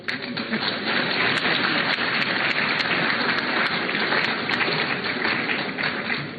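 Steady, dense applause from an audience at a formal award ceremony honouring contributions to education, many hands clapping evenly for several seconds with no pause.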